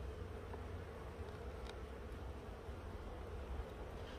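A honeybee colony of roughly 30,000 bees in an open hive, frames of beeswax comb exposed, gives off a steady low buzzing hum, close and continuous with no talk over it.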